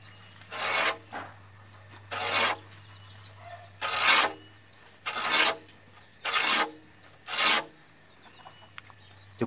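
A blunt nail is dragged hard across a GRC cement board to score a deep groove, giving six rasping scrapes in a slow, even rhythm with short pauses, close and clear against a low background hum.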